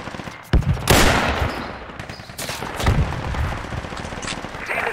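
Bursts of machine gun fire in the military shooter game Project Reality, several loud sharp volleys standing out over a constant background of distant battle.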